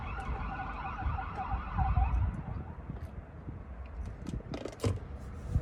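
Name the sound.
ambulance siren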